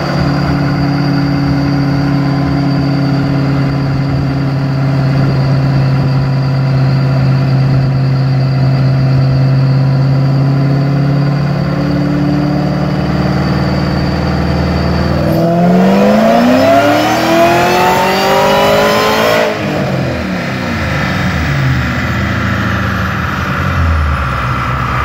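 A Shelby 1000 Mustang producing over 1,000 rear-wheel horsepower idles with a loud, steady rumble, then revs sharply twice with rising and falling roars before settling back, close and alone.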